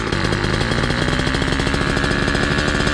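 Small motorized bicycle engine fitted with a cheap chainsaw carburetor runs hard, a loud, rapid buzzing putter with a fast steady firing rhythm heard up close for a few seconds.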